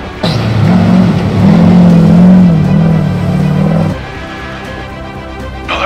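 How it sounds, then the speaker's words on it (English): A car goes by on a road, heard as a loud steady engine roar that holds for a few seconds, then drops off sharply as it moves past. "there's a car coming."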